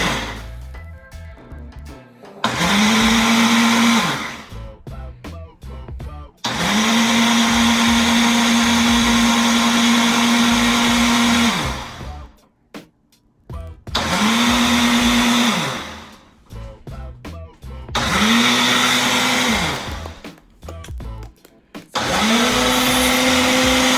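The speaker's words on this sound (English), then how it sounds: "So I'm gonna blend this." A Ninja blender whirs through sea moss gel in five loud bursts, each starting with a rising whine and holding a steady roar before cutting off, with short quiet gaps between.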